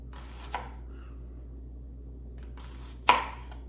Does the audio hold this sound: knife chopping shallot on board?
yes